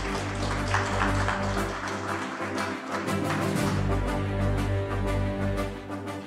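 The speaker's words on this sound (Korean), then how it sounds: "큰 박수로 맞이해 주시면 감사하겠습니다" An audience at a party convention debate event applauds to welcome a speaker, a dense, continuous patter of clapping lasting several seconds over a low hall hum.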